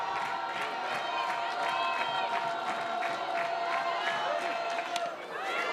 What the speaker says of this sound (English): As this crowd lends their support to Grein and this defense.